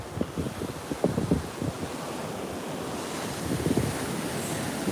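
Ocean surf rolls onto the sand at Ormond Beach, Florida, a continuous washing roar with wind buffeting the microphone and a couple of louder breaking surges, no talking.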